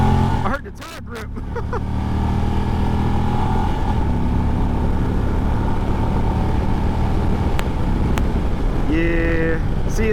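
Indian motorcycle (Challenger or Roadmaster) pulling hard in first gear, a loud, steady engine roar that rises in pitch near the end, with wind noise throughout.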